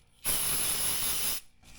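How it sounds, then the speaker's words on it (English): Brake parts cleaner sprays from an aerosol can in one loud, steady hiss lasting just over a second, close to the listener, with quiet before and after. "Now I'm cleaning this with brake parts cleaner."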